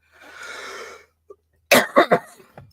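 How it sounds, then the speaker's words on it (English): A breathy exhale, then a short pause before a burst of three sharp, close coughs in quick succession. "Oh, got a cough."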